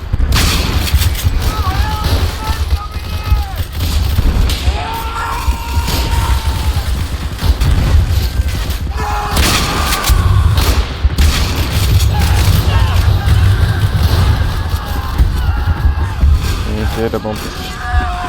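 Booming explosions and gunfire in a Roblox World War I battle game, dense crashes and blasts throughout, with excited talking over the chaos.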